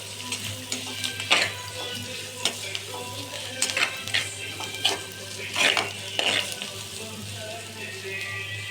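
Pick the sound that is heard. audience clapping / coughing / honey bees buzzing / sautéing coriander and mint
sautéing coriander and mint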